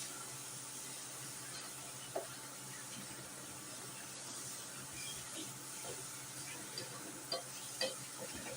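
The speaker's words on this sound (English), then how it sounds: "And I'm just going to stir this together." Poke sallat and scrambled eggs are stirred in a pan over medium heat, giving a soft continuous sizzle and hiss broken by a few faint scrapes and taps of the utensil.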